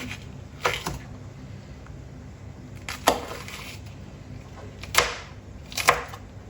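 Green chilies are chopped with a knife on a board in four sharp, separate knocks spread out with pauses between them. The sound is close and moderately loud, and no one speaks.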